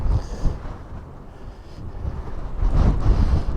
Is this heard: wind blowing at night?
yes